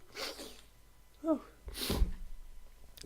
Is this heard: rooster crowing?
no